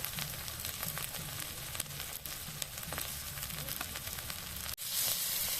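Chopped onion and chili frying in hot oil in a pan for an Assamese dry fish masala, giving a steady, close, loud sizzle that swells sharply near the end.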